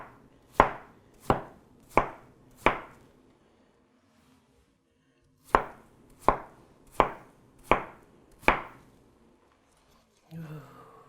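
A knife chops through a watermelon on a cutting board in two runs of five evenly spaced, loud, close thuds separated by a quiet pause, followed by a short bit of brief vocal noise.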